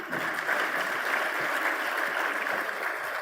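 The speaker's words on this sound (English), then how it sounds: "Huge round of applause for all the dignitaries." Applause for dignitaries at a project agreement signing ceremony, a steady, sustained round of clapping from a sizeable audience, even and fairly loud throughout with no talk.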